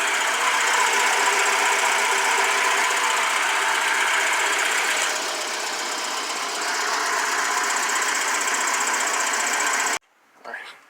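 A 2007 Toyota Camry engine running just after its first startup, a steady, close, loud mechanical hum that holds for about ten seconds before cutting off abruptly, followed by a brief faint noise.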